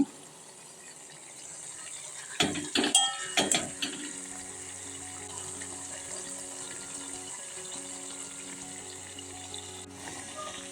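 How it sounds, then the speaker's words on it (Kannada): Carrot and beetroot simmer in oil over a low flame, giving a soft continuous bubbling sizzle with a few brief clattering stirs near the start and no talk. "ಈಗ ಕುದೀತಾ ಐತೆ ಸಣ್ಣಕ್ಕೆ ಇಟ್ಟಿದ್ದೀನಿ ಉರಿ"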